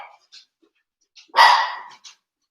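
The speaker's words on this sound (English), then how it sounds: "sorry, my dogs are activating, as usual" Dogs at home let out a single loud, close bark in a short burst, with a few faint yips and sounds around it.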